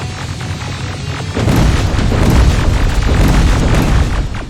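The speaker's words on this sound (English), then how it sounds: "So I gotta wait for those explosions to stop?" Explosions in Terminator Resistance, a heavy sustained rumble of blasts that swells loudly partway through and keeps roaring with crackling bursts.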